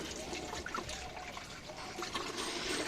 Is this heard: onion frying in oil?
no